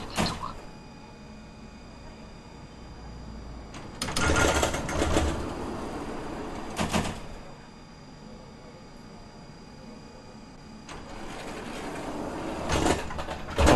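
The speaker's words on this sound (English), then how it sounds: "Okay, so the doors are starting to close," Tram doors in the PS5 driving game TramSim, set in Munich, close with a mechanical whirring slide and bursts of rattling motor noise that come and go, loud and close, with no talk.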